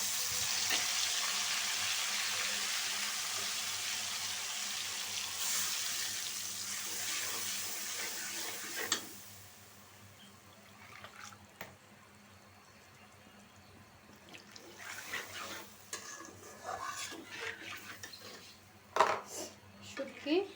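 Spice paste hits hot oil in a wok with a loud, bright hiss that settles after several seconds into a quieter sizzle, broken by clinks of utensils and cookware and a brief run of water.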